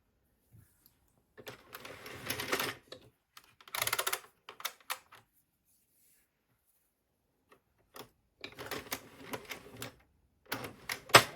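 Knitting machine working 30 rounds of contrast yarn for a Halloween pumpkin stuffing pillow, heard as bursts of rapid mechanical clatter from the carriage passes, separated by short pauses, close and fairly loud.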